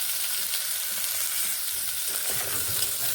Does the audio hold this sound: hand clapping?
no